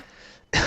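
After a moment of faint noise, a single short, harsh cough bursts out close to the mic.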